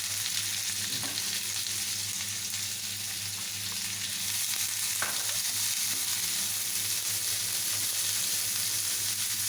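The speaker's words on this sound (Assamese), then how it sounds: "পিঁয়াজখিনি আমি ধুনীয়াকৈ গুলপীয়া হোৱালৈকে অলপ সময় ভাজি ল'ম।" Onions fry for baingan bharta after cumin goes into the hot oil, giving a steady, close sizzle that holds even throughout, with a brief stir or clink midway and no talking.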